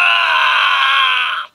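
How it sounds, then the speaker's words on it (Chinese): A recorded scream of Kaiba played through a Yu-Gi-Oh duel disk toy, one sustained, strained shout of about a second and a half cutting off abruptly, loud and close-up with nothing else present. "海马惨叫。"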